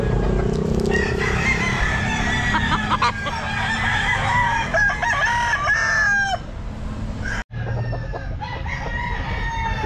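Bullstag gamefowl roosters crow at a pet market, several overlapping calls sounding loud and close amid clucking and crowd noise.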